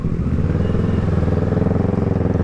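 A motorcycle engine runs loudly and steadily close by on the road, with a continuous low, pulsing drone and no talking.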